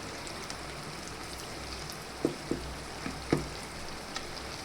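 Okra curry mixed with garlic chutney simmers in oil, a soft continuous sizzle and crackle with a few faint ticks and taps of a utensil against the pan.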